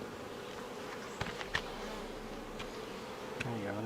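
Honey bees hum steadily in a low drone around an open hive a few days after a split, with a few brief clicks and knocks of frames being handled during the inspection.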